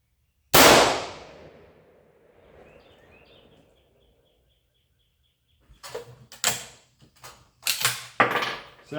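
A jungle carbine scout rifle fires one loud, sharp shot whose report rings out and decays over a few seconds. Quieter clicks and clanks of handling the rifle follow.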